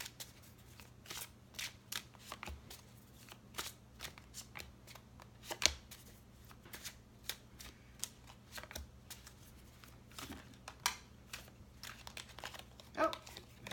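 Tarot cards being shuffled and pulled by hand, producing repeated soft riffling and slapping bursts in an irregular rhythm, close up and fairly quiet, with a steady low hum beneath and no talking.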